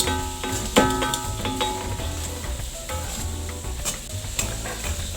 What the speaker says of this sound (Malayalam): അങ്ങനെ ഇട്ട് കൊടുത്തിട്ട് ഒന്നും കൂടെ അങ്ങോട്ട് ഇളക്കിയെടുക്കാം.